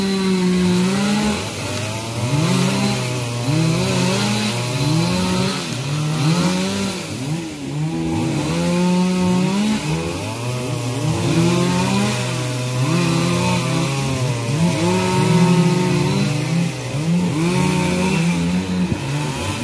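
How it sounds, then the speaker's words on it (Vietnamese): Four chainsaws run at once while cutting up an old tamarind tree outdoors, a loud, continuous overlapping roar with engines revving up and down as they bite into the wood. "4 máy cưa chạy cùng một lúc."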